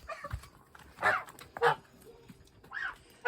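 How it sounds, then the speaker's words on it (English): Geese honking while being herded alongside ducks, three separate loud nasal honks spaced about half a second to a second apart, fairly close, over a quiet outdoor background. "Here we go gathering ducks and geese."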